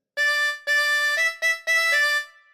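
Solo harmonica plays five notes of a Bingo melody phrase up close, with two longer tones followed by a quicker trio, each clearly tongued and reedy, and no speech.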